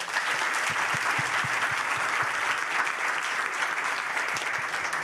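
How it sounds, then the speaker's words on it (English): An audience at a live dialogue session at the MTN Bushfire 2025 festival gives a steady round of applause, dense crowd clapping held at an even level throughout, with occasional distinct nearby claps standing out. "please give them a big, big round of applause for today"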